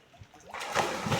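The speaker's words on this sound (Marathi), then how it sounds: "अंकुश दादा आता उडी मारतोय" A man leaps into deep water at Atkicha Doh, a natural swimming pool in Konkan, with a rising, sustained splash and churning water noise that swells after a quiet start and carries on to the end.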